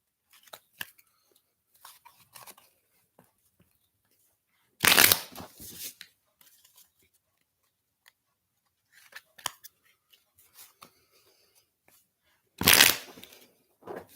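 Cards are riffled and bridged several times, with crisp bursts of shuffling separated by long quiet pauses and light card handling.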